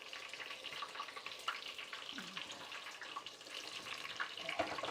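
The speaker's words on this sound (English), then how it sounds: "Let me just wash my hands." A kitchen tap runs in a steady, soft rush of water as hands are washed, a continuous close hiss with faint clinks and no speech.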